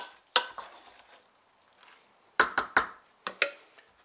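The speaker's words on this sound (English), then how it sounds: "we're just going to mix it all together. Stir it up pretty good" A spoon stirs a Spanish rice mixture in a pot, giving sharp scraping knocks: one early clack, then a quick cluster of three around midway and two more near the end, close and fairly quiet against near silence.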